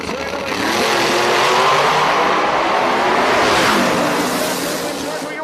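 Drag radial race cars launching side by side on a drag strip, a loud, sustained roaring engine blast filling the whole stretch, close and dense with a slight fade at the end.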